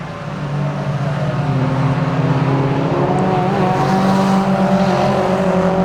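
750 Motor Club race cars lap the Donington circuit, their engines droning loudly and steadily, with shifting pitches as several cars pass close by one after another.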